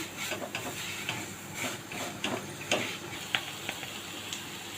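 Mixed vegetables sautéed on slow to medium heat for veg pocket noodles, with repeated scraping stir strokes and a soft sizzle in the pan, close and moderately quiet.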